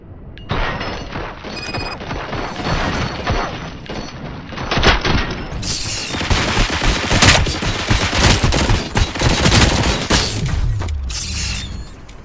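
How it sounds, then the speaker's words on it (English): Sustained gunfire from a shooting sequence in the video game Robocop Rogue City, with dense bursts and mechanical clatter running loudly and continuously through the whole stretch. "Fire at will."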